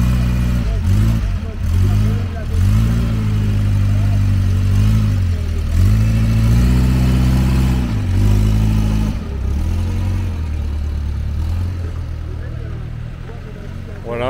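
A rear-engined Renault 4CV at a Citroën 2CV gathering pulls away, its small engine droning steadily and rising and falling with gear changes. The engine is loud and close, then gradually fades as the car drives off.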